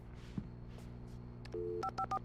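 In the Alan Wake video game, a phone is dialed. A few faint clicks come first, then a run of short electronic keypad tones beeps in quick succession.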